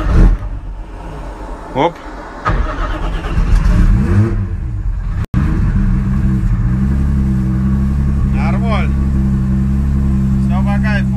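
A car engine cranks and fires up partway through, then runs with a steady, throaty idle and light revving. People talk over it throughout.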